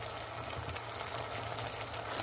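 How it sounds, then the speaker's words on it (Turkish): A homemade sauce for beyti kebabs bubbles in a pan on the stove, a soft, steady simmering hiss heard alone and fairly faint throughout. "Zaten kaynıyor. Artık sosumuz da hazır olacak."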